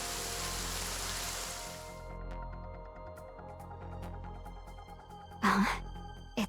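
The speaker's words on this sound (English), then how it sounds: "It's raining? But the sky's so clear." Rain falls in the video game Goddess of Victory: Nikke as a loud hiss of steady rainfall that cuts off after two seconds, leaving faint ambience and a brief breathy sound near the end.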